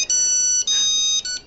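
Electronic mobile phone ringtone for an incoming call, loud and close, with three bright melodic bursts separated by short gaps, heard alone without speech.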